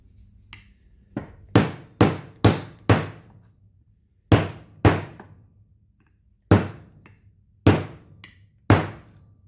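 Loud, sharp hammer blows on a metal part of a Melroe Bobcat variable speed sheave, about a dozen strikes in uneven bursts with short pauses between, close up and without any talking.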